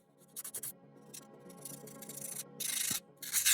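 Dry abrasive rubbing on slate in uneven strokes, close up, with short bursts of harsher scraping between quieter passes.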